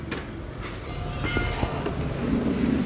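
Train rolling along a railway line, a steady loud rumble with faint rattling that swells slightly toward the end, with no voices.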